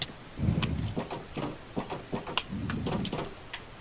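Horse hooves clop in Minecraft as a rider moves along, a series of uneven muffled thuds at a moderate walking rhythm, fairly close.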